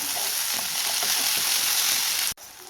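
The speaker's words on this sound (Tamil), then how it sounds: "இப்போ வெங்காயம் தக்காளி நல்லா வதங்கி நல்லா சாஃப்டாக தொக்கு மாதிரி வரணும் அந்தளவுக்கு நல்லா வதக்கி விட்டுக்கலாம்" Onions and tomatoes for prawn thokku sautéing on a medium flame, a dense, even sizzle with faint stirring, close and steady until it cuts off abruptly near the end, no talking.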